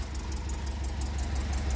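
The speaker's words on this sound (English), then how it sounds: "Obviously it does idle okay." A cammed Chevrolet Tahoe V8 idles steadily with a low, rhythmic loping rumble, fairly faint and continuous with no talk.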